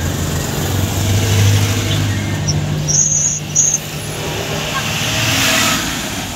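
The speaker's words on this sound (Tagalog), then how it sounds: "Palaging traffic" Steady traffic on a congested street in the Philippines: cars and trucks idle and creep past in a constant low engine rumble, with occasional higher whines and faint talk underneath.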